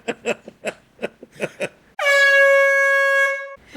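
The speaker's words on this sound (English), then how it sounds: "decided not to make you pull out the air horn" One long, loud air horn blast follows a stretch of chatter, sounding as a steady blaring tone for about a second and a half before cutting off.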